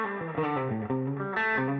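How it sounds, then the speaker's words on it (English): An electric guitar plays a short phrase through overdriven amp distortion, thick and saturated, with notes sliding between pitches. "The overdrive on the amp, here's the first low."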